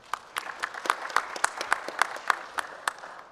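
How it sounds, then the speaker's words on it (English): A small audience at a supply chain conference gives a light round of applause for a speaker: a handful of distinct, spaced claps in a quiet room, fairly soft and without voices. "a little applause for Gemma."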